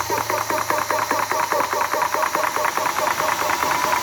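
A modified Warrior electric water pump motor runs steadily with a rapid mechanical chatter and rattling pulse, loud and close, holding a constant droning tone with no voices.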